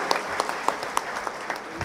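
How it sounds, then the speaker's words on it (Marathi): A crowd at the 77th anniversary celebration of the Peasants and Workers Party claps together, a dense burst of applause with a few sharper individual claps standing out, moderately loud and steady for about two seconds with no talking. "एकदा जोरदार टाळ्या वाजवून आपण वर्धापन दिनाच्या सगळ्यांना शुभेच्छा देऊया"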